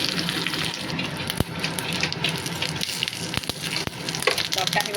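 Cumin, dried red chili and mustard seeds fry in hot oil for a tadka, a steady crackling sizzle with a few sharp pops and faint clinks of a utensil in a home kitchen.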